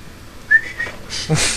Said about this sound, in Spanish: para eso sirve el silbato